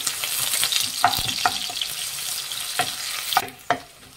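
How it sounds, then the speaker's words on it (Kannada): Three long-sliced onions frying in hot oil for a spicy chicken chilli chops dish, with a steady close sizzle broken by several sharp scrapes and clinks of stirring, and no voices. "3 ಈರುಳ್ಳಿ ಹಾಕ್ಕೊತಾ ಇದ್ದೀನಿ. ಈರುಳ್ಳಿ ಫ್ರೈ ಮಾಡಿ"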